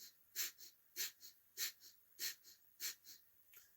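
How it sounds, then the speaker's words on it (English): Breath of fire yogic breathing, a regular series of forceful, airy nasal exhales about every half second, each a sharp puff followed by a softer one, close and clear with no talking. "The breath of fire, exhale. Bellows breath."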